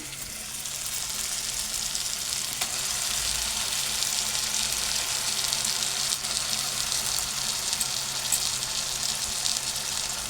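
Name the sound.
spice paste frying in pan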